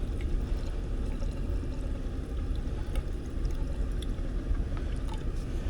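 About a gallon of water poured steadily into an HVAC condensate drain line to flush it, a continuous close splashing gurgle that runs unbroken and alone.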